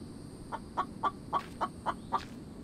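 A chicken in the game The Infected clucks in a steady series of about seven short, evenly spaced clucks, fairly faint over a quiet background hum.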